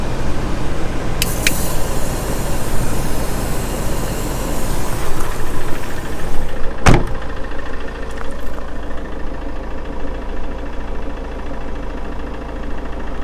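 A Peugeot Jumpy van's engine idles steadily with the cabin ventilation fans running at full, a constant low hum and airy whoosh, with a short sharp hiss or click around the middle.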